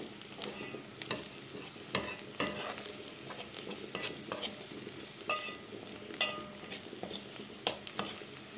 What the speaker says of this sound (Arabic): اقعد اقلب فيها كده لحد ما تاخد لون الذهبي